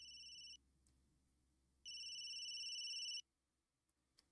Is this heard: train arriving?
no